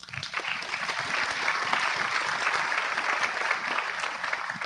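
Audience applause at a biodiversity summit in Guyana, a steady sustained wash of clapping from a large crowd heard from a distance, without talk.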